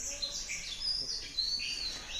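A small bird gives thin, high chirps and tweets, repeated several times over a couple of seconds and moderately close.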